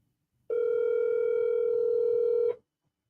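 A telephone line tone sounds while a call is placed, one steady, loud electronic tone lasting about two seconds, then silence, with no talking.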